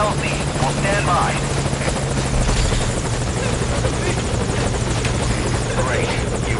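A helicopter at a landing zone in the video game Metal Gear Solid V: Ground Zeroes gives a loud, continuous rotor thrum with a steady buzzing drone, heard close and unbroken while radio-style voices talk over it.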